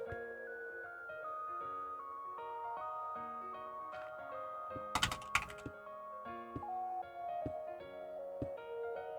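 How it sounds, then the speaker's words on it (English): Computer keyboard typing while playing a modded Minecraft pack: scattered key clicks, with a brief cluster of sharper taps midway, sit under steady game music. "it was just typing into NEI spawn"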